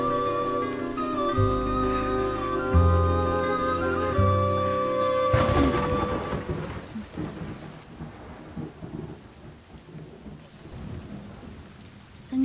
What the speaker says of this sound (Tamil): ஏய் மழை வருது